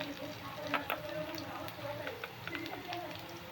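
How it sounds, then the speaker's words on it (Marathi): Onions sizzle and crackle steadily in a pan while being cooked for street-style pav bhaji, with occasional stirring clicks; a voice talks softly over the frying throughout. "मस्त आपला कांदा तळलेला आहे"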